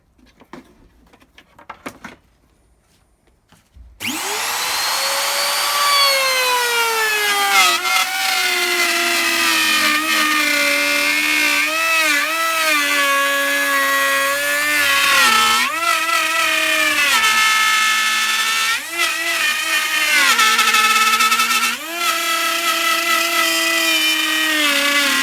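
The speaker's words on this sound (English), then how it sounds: "when you're using the router" A router pattern-cutting a rebate into a plywood lid for a reclaimed container. After a few quiet seconds it spins up to a loud, close, sustained whine whose pitch dips and rises as it bites into the wood.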